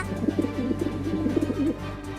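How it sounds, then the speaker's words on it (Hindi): A pigeon coos in low, soft, rolling bursts over a steady background hum, fairly close and continuous for a couple of seconds. "कबूतर की आवाज आ रही है"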